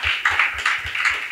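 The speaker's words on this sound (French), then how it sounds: "Est-ce que vous pouvez applaudir pour vous-même d'abord?" Audience at a magazine taping applauding themselves, close rhythmic clapping from a small crowd in a quick steady patter, loud and alone without talk.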